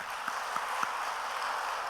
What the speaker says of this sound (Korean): 고맙습니다 하고 박수합니다